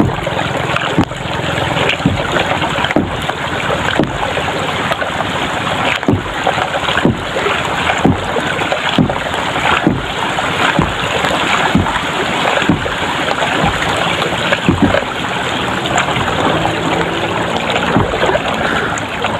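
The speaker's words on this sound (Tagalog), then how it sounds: "Gasagwan tayo" Oars dip rhythmically into the water as a wooden bangka fishing boat is paddled, each stroke a regular splash over constant wind and water noise, close and steady.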